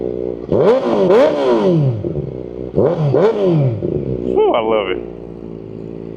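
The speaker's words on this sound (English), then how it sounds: "Let's give you guys some revs." Kawasaki ZX-4RR motorcycle engine revving outdoors, two strong rising-and-falling rev bursts followed by a shorter blip, loud and close, with a voice speaking briefly over the end.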